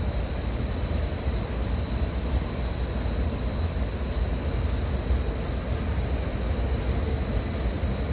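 A steady, loud rumble of a passing train, continuous and even throughout with no breaks, dominated by low-frequency rolling noise.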